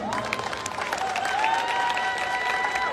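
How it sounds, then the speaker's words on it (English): Audience at a youth and adult education graduation ceremony giving a steady round of applause, moderately loud and continuous, with faint cheering in the mix. "Let's give her a round of applause."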